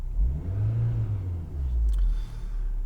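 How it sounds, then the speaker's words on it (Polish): A 2003 Fiat Stilo 1.6 engine idles with a steady low rumble and a slight swell in revs midway, close and continuous, with no voices. "uruchomiłem tylko silnik. Nie wiem czy go słyszycie."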